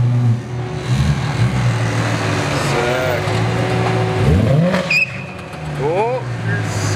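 Tires squeal in short, rising chirps over the steady roar of a car engine as it drives and turns, with the engine noise staying loud and close throughout.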